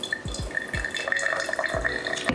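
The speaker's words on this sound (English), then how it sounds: "pour 50 grams of water" Hot water from a kettle pours into a CAFEC Deep 27 single-cup pourover coffee dripper, a steady close trickle with a few soft splashy onsets and a faint tonal ring, no talk.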